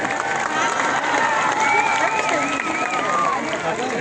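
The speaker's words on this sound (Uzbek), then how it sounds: "Qani balandroq qarsak chalamiz" A large crowd applauds and cheers at an outdoor youth day celebration in Ingichka, Kattaqo'rg'on, with steady dense clapping and voices through the whole stretch.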